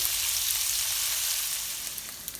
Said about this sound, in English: Lovely crispy pancetta bacon, and look how much oil that has produced